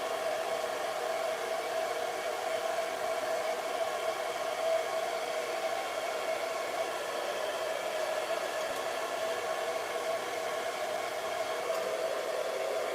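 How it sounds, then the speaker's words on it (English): A hair dryer blows with a constant airy roar and a steady whine, unbroken from start to finish. "When I stand up drying, I have to go under the dryer."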